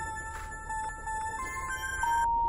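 An old cell phone rings from a withheld number inside The Charnel House Trilogy game, giving a steady electronic tone with repeating chirps over a low background hum.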